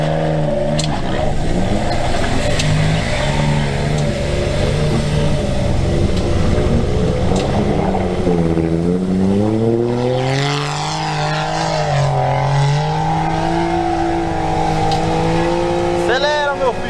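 A Suzuki Jimny engine revs hard while climbing a steep hill, the pitch sweeping up and down as the throttle rises and falls, loud and close, with people talking over it.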